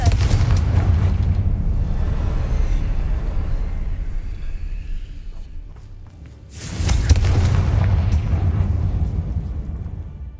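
Confringo fire-blast spells detonate in Hogwarts Legacy, with two long rumbling booms of heavy low-end explosion and a brief quieter lull between them.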